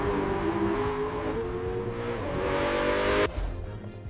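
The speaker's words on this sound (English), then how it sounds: "The first breath of the naturally aspirated V16 engine." A Bugatti Tourbillon's naturally aspirated V16 engine revs and climbs in pitch, loud and close, then cuts off abruptly into a quieter tail.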